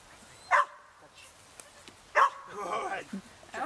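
A dog at a church animal rescue and blessing event gives two short, loud barks on command about a second and a half apart, with a person speaking between and after them.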